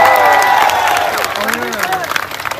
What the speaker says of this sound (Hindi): आप एक बार अभिनय सर के लिए जोरदार तालियां बजाएं